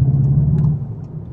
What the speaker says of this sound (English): we're going to hear probably a little bit more of a guttural exhaust.